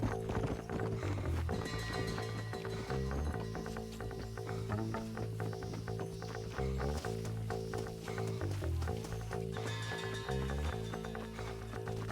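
Horse hooves clip-clopping in the Red Dead Redemption video game, steady and fairly close, running under a continuous bed of layered orchestral-style game music with no talking.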